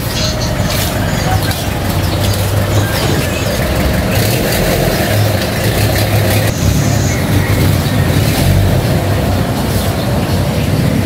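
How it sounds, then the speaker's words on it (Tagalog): A delivery vehicle's engine drones steadily while driving through town traffic near a market, a loud continuous rumble with road noise throughout. "Medyo traffic na dito."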